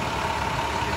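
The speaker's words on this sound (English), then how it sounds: "Eso ahora es un camión que quiere irse." A truck engine idles steadily in a flooded Florida street, a continuous low rumble with a faint hum, heard alone for a short stretch.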